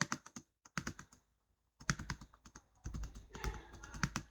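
Close, quiet typing on a computer keyboard while filling in a table design field in Excel, rapid clusters of key clicks separated by short pauses and ending in a denser burst.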